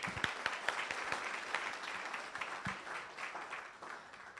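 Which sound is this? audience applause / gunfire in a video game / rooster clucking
audience applause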